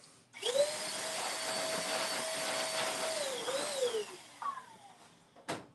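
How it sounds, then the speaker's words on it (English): A strong instant blow dryer whines loud and steady during a live fade haircut at a barbershop, droning for several seconds, then shifting pitch and winding down, with a brief click near the end. "You got the instant blow dryer again. This thing blows strong."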